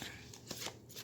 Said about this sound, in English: Let's shuffle these cards up a little bit.